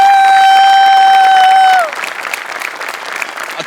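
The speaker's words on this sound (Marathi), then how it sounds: "तुझ्यासाठी स्पेशल टाळ्या." A studio audience at a Marathi comedy show bursts into brisk, dense applause that starts right after a sustained musical tone fades out, then carries on steadily and close.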